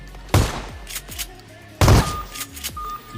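Shotgun blasts in PUBG on the Erangel map: two loud, sharp booms about a second and a half apart, each followed by lighter clatter and thumps.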